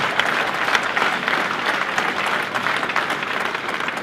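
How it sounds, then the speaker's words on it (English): Audience at a boxing press conference for Carl Frampton versus Leo Santa Cruz applauding, a dense, continuous patter of clapping hands filling the room with no speech over it. "We have a very knowledgeable and very polite boxing crowd"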